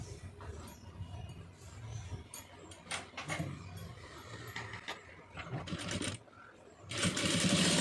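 Sewing machine stitching the folded neck edge of a soft silk saree blouse, a steady mechanical whirr running in bursts with brief pauses, close and fairly loud, ending in a louder stretch.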